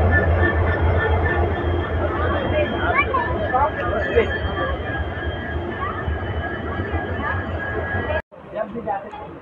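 The Amravati Express departs Hospet station with a continuous rumble of rolling wheels and carriage noise, mixed with crowd chatter and nearby voices, and a brief dropout near the end.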